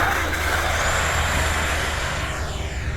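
An FMS F16 64mm electric ducted-fan RC jet idling at low throttle, a steady loud whooshing roar with a faint high whine, unchanging and close throughout.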